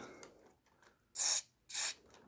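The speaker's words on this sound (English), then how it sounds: "now I'm spraying some Deoxit inside" Deoxit contact cleaner is sprayed into a switch of a Pioneer SX-1250 stereo receiver under restoration, two short, loud hissing bursts close to the mic, separated by a brief pause, in an otherwise quiet room.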